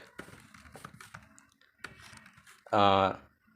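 Typing Python code on a computer keyboard: scattered soft key clicks and taps close by under someone talking, with a brief louder buzzing tone near the end.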